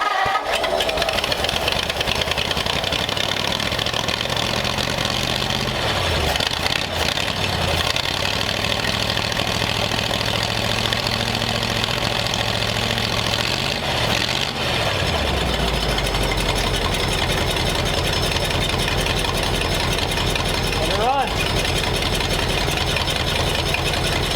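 A 1939 convertible's engine runs roughly with irregular popping and knocking over a loud, constant idle rumble, with pitch shifts as the revs rise and fall.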